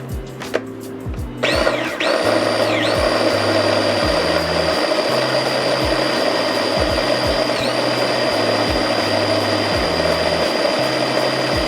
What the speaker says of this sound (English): We're gonna blend it up before we throw it on the pot to boil.